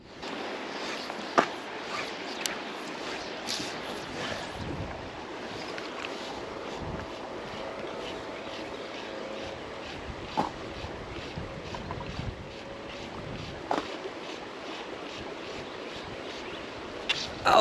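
Wind blowing over a kayak on a Texas Hill Country river, a continuous low rushing hiss with light buffeting and occasional small knocks and splashes, no talking.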